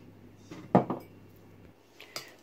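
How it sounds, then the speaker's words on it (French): A spoon stirring paprika and honey together in a bowl, with a few clinking knocks against the bowl's side, close and distinct in a quiet kitchen. "Je vais bien mélanger."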